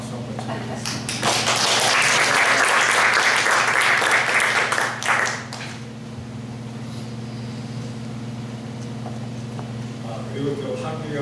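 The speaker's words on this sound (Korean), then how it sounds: "우리 박수 한번 쳐드리겠습니다." A church congregation bursts into loud applause to welcome a member back, clapping for about five seconds before it fades into a steady low hum, with faint voices near the end.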